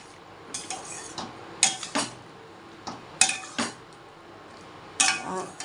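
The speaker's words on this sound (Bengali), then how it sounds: "চলো এবার ঢাকা দিই" Metal kitchenware clanking near a cooking pot as it is handled and covered, several sharp clinks and knocks in uneven bursts, close and clear against a quiet room.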